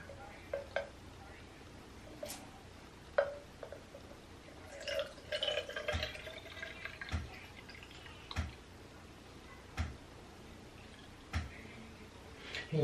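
Quiet liquid sounds with scattered drips and splashes as rice water is poured into a spray bottle, interspersed with soft clicks and handling noises.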